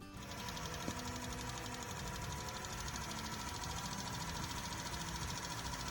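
A car engine runs steadily with a rough, clattering mechanical rhythm, loud and continuous throughout, with a faint whine on top.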